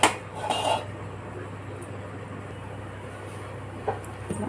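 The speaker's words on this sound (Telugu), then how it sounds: "స్టవ్ మీద ఒక కళాయి పెట్టుకోవాలి" A metal kadai pan clatters onto a stove with a sharp clang at the start and a few rattling knocks just after, then quiet until one more faint clink near the end.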